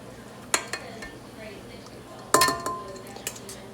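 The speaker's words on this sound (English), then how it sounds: "now we are going to add our half cup of squash" Summer squash is added to brownie batter, heard as a few sharp clinks of a utensil against a bowl with soft scraping between, close by and without talk.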